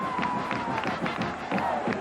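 Sellout football crowd of over 75,000 at the Cotton Bowl for Oklahoma versus Texas, a dense steady roar of cheering voices with rhythmic swells of shouting, loud and continuous throughout.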